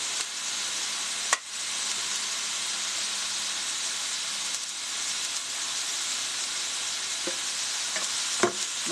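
Sliced mushrooms sizzle steadily in a pan while being cooked down for a keto spaghetti sauce. The hiss is constant, with a few sharp clicks of a utensil stirring against the pan.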